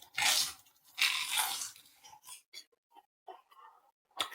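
Crunchy keto chaffle biscuit being bitten and chewed close up: two loud crisp crunches, then a run of softer irregular chewing crackles and a final crunch at the end.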